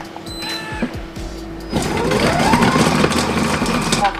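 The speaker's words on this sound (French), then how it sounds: "un oignon, voilà, on mixe, vitesse 10" A Moulinex Companion food processor blends onion with basil oil at speed 10; its steady motor whir starts partway in and runs loud and continuous to the end, after some quieter clicks and handling at the start.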